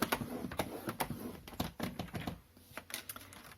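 A paper trimmer slicing and scoring pastel cardstock for a Stampin'Up! box gives a run of sharp, close clicks and taps in an uneven rhythm, with no voices.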